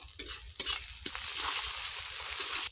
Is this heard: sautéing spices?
yes